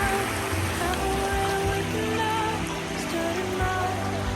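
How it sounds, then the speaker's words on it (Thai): Waterfall at a garden campsite in Saraburi, Thailand: steady, dense rushing water fills the whole clip, loud and constant with no pauses. "เดี๋ยวให้ดูบรรยากาศน้ำตกครับ"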